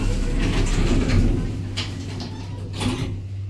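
A department store lift door, modernised by Thyssen, slides shut with a smooth mechanical whir over a steady low hum, ending in a soft bump.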